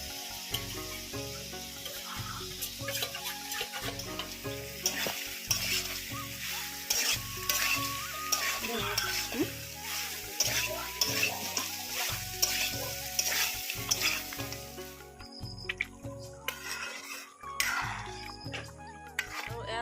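Duck meat fries with green and powdered chilli in a pan for an Assamese duck curry, a loud, steady sizzle broken by repeated scraping stirs, with music playing softly underneath.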